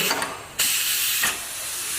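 Loud steady hiss of escaping steam while cooking lentils for onion sambar, with a short dip and then a renewed, stronger burst of hissing.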